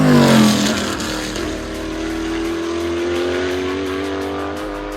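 An 8.3 litre V8 hypercar at the Goodwood Festival of Speed accelerates hard, a loud, close roar that rises steadily in pitch through the gears with no voices over it.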